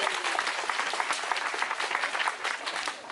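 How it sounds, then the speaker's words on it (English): Crowd applause at an outdoor car-parade rally in Pleasanton against Proposition 16, with sustained dense clapping at an even level that fades slightly at the end. "So give yourselves a big round of applause."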